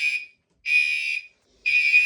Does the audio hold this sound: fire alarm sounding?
yes